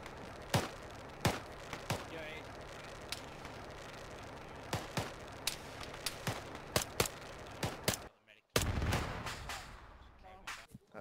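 Arma 3 beach assault battle with sharp rifle and cannon shots cracking out irregularly, some close and loud, others distant, a brief lull near the end before a heavy blast, with voices in between.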